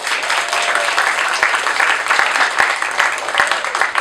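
Theater audience members at an improv showcase clap together in a dense, fairly loud burst, with a few sharper individual claps standing out against the sustained applause.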